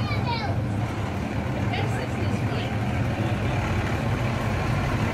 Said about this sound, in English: The fire truck is here!